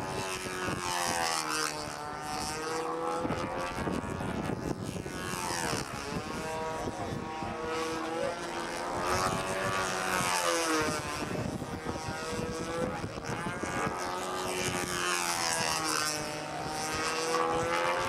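A control-line model airplane flies at a stunt competition, its small propeller engine giving a continuous buzzing whine that rises and falls in pitch in repeated sweeps as it loops and passes, loud and unbroken.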